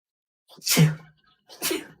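Two sharp sneezes, close and loud, separated by a short pause in an otherwise quiet room.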